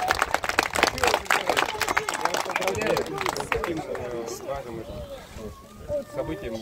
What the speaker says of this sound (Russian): Друзья, поддержите аплодисменты родителей.